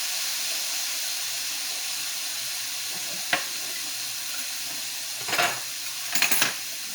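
Fresh onion chunks fry in a pan with a steady, close hiss, broken by a few sharp clinks of a utensil against the pan near the end.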